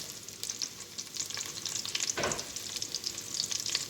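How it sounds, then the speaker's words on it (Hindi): A spoonful of garlic frying in oil in a pan, a soft continuous sizzle with light crackles and a brief stir partway through, no voices. "अब पैन के अंदर मैंने ऑयल ऐड किए और लहसुन ऐड कर लिए"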